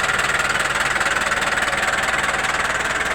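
Four-cylinder engine running steadily, a loud close rhythmic pulsing drone with a fast even beat and mechanical rattle, no voices.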